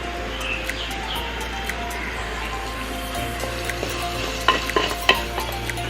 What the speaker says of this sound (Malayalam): ഇനിയും മീൻ കോരി എടുത്ത എണ്ണയിലേക്ക് നമുക്ക് സവാള ഇട്ട് കൊടുത്ത് വഴറ്റിയെടുക്കാം